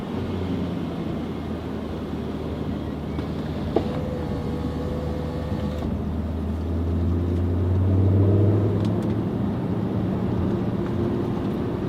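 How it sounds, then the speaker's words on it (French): Deep burble of a Jaguar XK RS V8 engine and exhaust while driving at low revs, a steady low rumble that swells briefly as the throttle opens, heard from inside the car. "L'échappement est incroyable. Le son de ce V8, magnifique."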